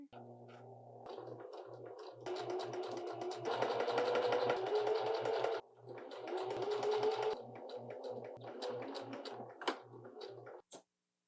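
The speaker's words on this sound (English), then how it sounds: "let's sew these sleeve side seams together." A sewing machine runs in long, rapid bursts of stitching sleeve side seams, with brief pauses between, the motor whirring steadily and fairly close.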